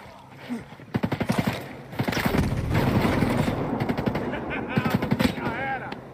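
Rapid MP7 submachine gun fire in a video game, loud close bursts of sharp repeated shots merging into sustained automatic rattles, with a voice talking over the gunfire.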